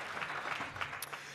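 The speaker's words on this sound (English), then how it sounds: "So let's give our sponsors a round of applause for supporting the future of this country" Brief, faint applause from an audience at a mathematics and science awards ceremony, scattered claps trickling through a quiet hall.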